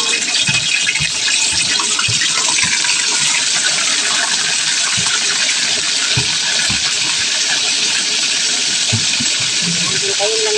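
Marinated milkfish (bangus) dropped into hot oil gives a loud, steady frying sizzle with scattered pops and crackles, continuing under a voice talking.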